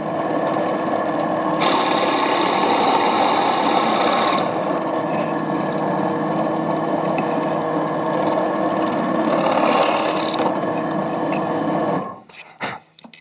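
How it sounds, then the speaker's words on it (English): A 32mm Forstner bit bores a hole through wood for a bird box, giving a loud, steady whirring grind with slight shifts in pitch. It stops abruptly near the end and gives way to a few light knocks. "We're using a 32mm Forstner bit to cut a hole."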